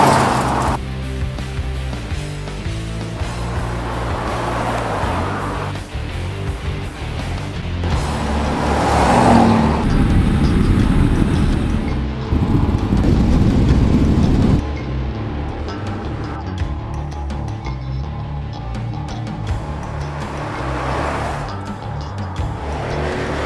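Classic Ford cars, including Falcons, drive past one after another with loud engine roar and tyre noise, growing louder to a peak near the middle and then easing off.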